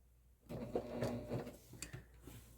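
A sewing machine stitching a strap onto a messenger bag, a quiet close whirring run of rapid needle strokes that starts after a short silence and fades with a few clicks.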